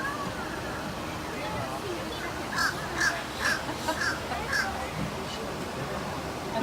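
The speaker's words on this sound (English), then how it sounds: "Now these birds have the problem-solving abilities equivalent to that of a toddler." A crow at a zoo caws several times in a quick series of harsh calls midway through, under steady background noise while people talk.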